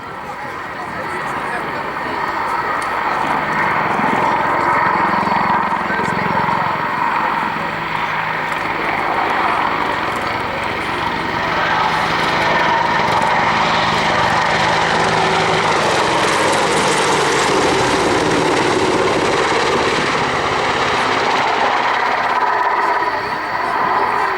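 An Army Air Corps Apache attack helicopter flies low and close over an airshow, its engine and rotor noise a loud, continuous roar that swells and fades as it banks past.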